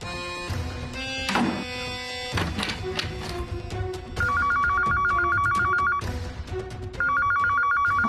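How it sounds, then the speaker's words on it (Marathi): A telephone rings indoors in repeated bursts, its bright warbling tone sounding in clear cycles separated by short gaps, fairly close, with faint thumps and background noise between rings. "आता कोणाचा फोन आहे?"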